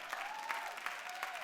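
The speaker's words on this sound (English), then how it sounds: "Let's give her a round of applause." Steady audience applause from a crowd at a training event, dense continuous clapping throughout with no talking over it.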